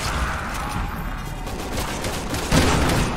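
Rapid gunfire in Resident Evil 6 crackles in dense overlapping bursts through a zombie fight, growing louder and heavier near the end.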